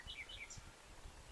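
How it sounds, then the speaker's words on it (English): Nightingales sing on a countryside walk near a Spanish farm village, a few faint high chirps and trills drifting in over soft rustling and low background noise. "Listen to all those nightingales,"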